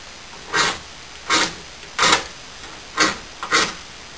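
Five short, sharp rasping strikes of a fire starter throwing sparks onto dryer lint, evenly spaced, close and crisp against a quiet background.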